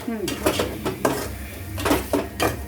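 Chicken stirred in a metal pot for chicken kuzhambu, sharp clanks and scrapes of a ladle against the pot in an irregular rhythm, close and prominent, with only a faint sizzle underneath.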